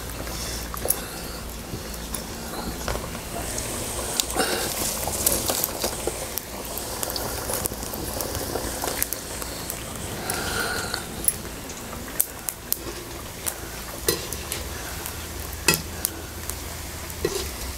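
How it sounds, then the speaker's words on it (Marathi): Pieces of marinated chicken 65 deep-fry in oil, giving a continuous close bubbling hiss dotted with sharp little pops and clicks throughout. "असंच आपण छानपैकी आता तळून घेऊया"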